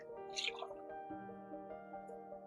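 Milk pours into a bowl of tuna tartlet filling with onion and green pepper, making a short, soft liquid splash and trickle that tapers off, close and quiet.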